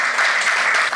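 A brief burst of steady audience applause at an event honoring the U.S. government's support against human trafficking, even and full without pauses.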